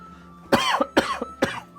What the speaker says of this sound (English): didn't mean to cough in the microphone